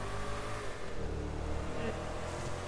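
Engine hum and road noise from an electric SUV driven in the GTA video game, steady and close throughout, with a voice speaking over it.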